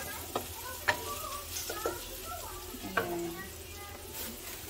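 Food sizzles gently in a large pan as it is stirred, with a soft steady frying hiss and a few light utensil clicks, while a voice speaks briefly and faintly.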